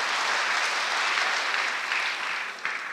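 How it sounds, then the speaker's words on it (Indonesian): Congregation applause during a church service, a thick continuous wash of clapping that stays loud and steady before easing slightly at the end. "tepuk tangan buat Tuhan"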